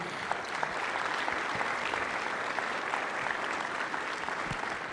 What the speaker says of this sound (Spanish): Dense un aplauso muy fuerte, por favor.